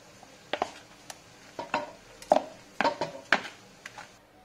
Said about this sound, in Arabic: نخلطوهم هكا نحلحلوهم باش يندمجوا هنا هذه الزيت